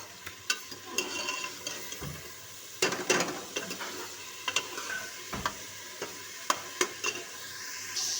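Oil being stirred into masala in a handi pot with a spoon, soft scraping and faint sizzle running steadily, punctuated by sharp spoon clinks against the pot rim, close and fairly quiet.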